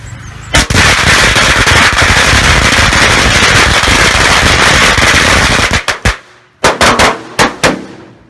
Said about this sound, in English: That was what I call a firework.